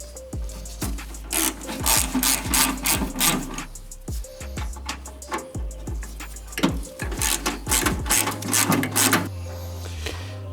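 A ratchet works a 10mm bolt on the ignition coil of a fuel-injected VW Beetle. Quick, close runs of metallic clicks repeat in bursts throughout, with no speech.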